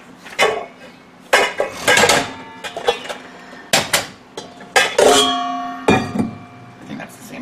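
Metal cutlery and a spoon clatter against a mixing bowl as quiche ingredients are stirred, with irregular clinks and knocks close up and a few moments of someone talking.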